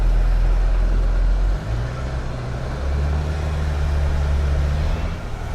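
The engine of a Subaru Sambar idles with its AC compressor engaged, a loud, steady low rumble whose drone shifts in pitch partway through as the compressor load changes.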